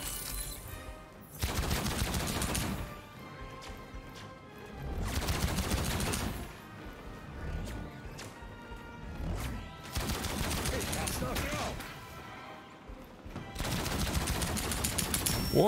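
Bursts of gunfire from shooting in the video game Outcast: A New Beginning, coming in several loud rapid volleys separated by short gaps, with a voice talking between them.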